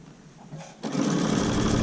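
A sewing machine stitches the tie of a homemade PPE face mask, starting with a soft whir and then running at a steady, fairly loud mechanical hum close by.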